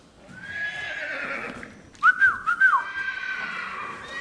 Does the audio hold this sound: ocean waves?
no